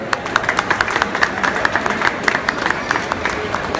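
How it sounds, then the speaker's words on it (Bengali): A concert audience claps at a live outdoor anti-drug day show in Kolkata, a dense, steady patter of many hands with a faint crowd murmur beneath, no talk. "এই দুজনের জন্য একটা খুব জোরে হাততালি।"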